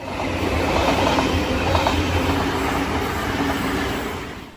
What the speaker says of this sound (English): I've frozen the footage of this Xplorer train here before a Waratah train gets in the way